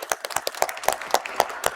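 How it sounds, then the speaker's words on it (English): Sparse, uneven clapping from a small congregation thanking the stewardship co-chairs, a handful of distinct hand claps spaced across under two seconds with no voices. "Let's give them a round of applause."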